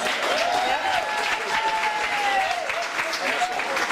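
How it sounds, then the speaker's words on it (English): Applause from an audience at a high school sports awards ceremony, steady and sustained throughout, with faint voices and a tonal whistle-like sound riding over the clapping. "Give those ladies a round of applause"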